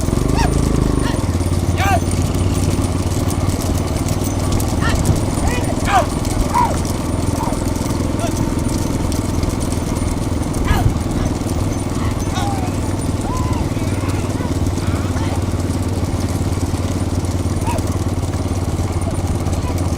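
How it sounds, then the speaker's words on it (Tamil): Bulls gallop in a bullock cart race, a steady clatter of hooves running continuously under a constant low engine drone, with loud shouting from the crowd throughout. "ஓட்டிக்க ஓட்டிக்க ஓட்டிக்க ஓட்டிக்க ஓட்டிக்க மாடு வருது"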